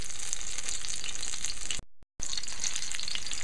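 Eggplant fries and is stirred in a hot pan for a Filipino-style dish, giving a steady loud sizzle throughout, broken once by a brief pause before the frying noise resumes.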